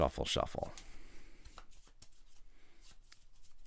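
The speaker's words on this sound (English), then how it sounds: "Discard and shuffle this." A deck of cards is shuffled during a tabletop Star Wars: Clone Wars Pandemic board game, a brief riffle of crisp flutter right after speech ends, followed by quieter card handling and soft taps nearby.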